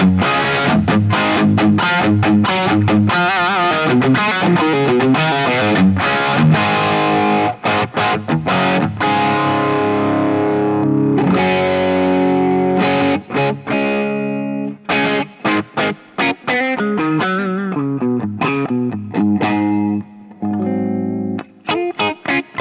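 Boss SD-1 overdrive pedal driving an electric guitar at high gain, a loud, continuous stream of distorted chords and riffs with sharp pauses and stabs, played alone without talk.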